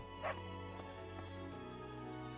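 A dog in the video game Fire Emblem Three Houses gives a short, faint bark over steady background music.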